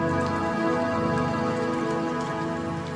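Steady rain falls at a family home, a dense even hiss of drops on surfaces running without pause at moderate loudness, with no voices.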